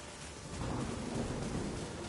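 Steady rain pours in the video game Returnal, a dense, constant wash of drops with low rumbling swelling midway through, loud and continuous with no voices.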